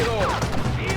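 Gunfire crackles through a shootout in the video game Red Dead Redemption, a dense one-second burst of shots layered over game music, with a voice speaking at the same time.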